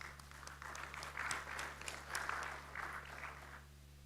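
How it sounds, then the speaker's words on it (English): A conference audience applauds for about three and a half seconds, a dense wash of clapping that swells and then stops, heard from some distance over a low steady hum. "Please give him a big round of applause."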